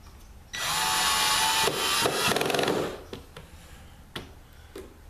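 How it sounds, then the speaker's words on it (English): A power drill drives small screws into a wooden hexagon game table: one long, loud whirring run followed by a shorter burst, then scattered clicks and taps as the work settles. "Now I'm just drilling the little screws."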